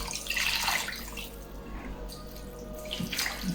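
Cold water runs steadily from a tap with a hissing, splashing rush, close by and without talk.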